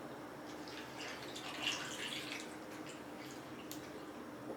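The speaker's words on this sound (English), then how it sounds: "And we're just gonna pour right in." Thai tea is poured over ice in a glass, giving a soft continuous trickle and splash with faint crackling from the ice, quiet and close, with no talking.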